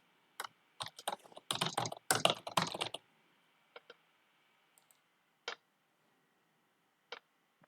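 A computer keyboard is typed on to enter an email and password for a login: a dense burst of crisp, close key clicks, then a few isolated taps spread out over quiet gaps.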